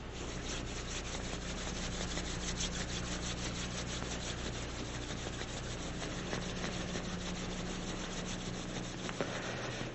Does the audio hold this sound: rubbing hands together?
yes